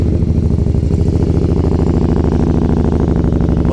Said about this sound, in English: But that is a typical V-twin rumble.